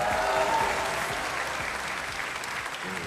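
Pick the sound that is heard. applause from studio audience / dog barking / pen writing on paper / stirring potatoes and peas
applause from studio audience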